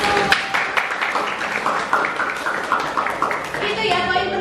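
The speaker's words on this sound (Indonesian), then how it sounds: "Oke, tepuk tangan dulu." Schoolchildren in a classroom clap together after a simple dance lesson, a short burst of uneven hand claps close by, mixed with children talking over it.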